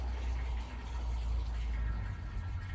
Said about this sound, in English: that's now drawing a vacuum through this tube and filling this cylinder receptacle with the oil